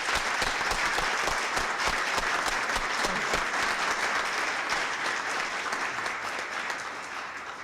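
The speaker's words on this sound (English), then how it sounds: "join in a strong, warm hand of applause for everybody" Sustained applause from the participants at an education leadership event in Newfoundland and Labrador, dense and steady throughout, tapering slightly toward the end.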